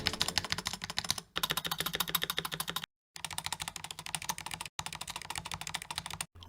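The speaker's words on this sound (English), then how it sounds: "Do you want your stabilizer to sound like this?" Rapid mechanical keyboard typing clatters up close in several fast bursts separated by brief silences, with the stabilizers rattling on each key press.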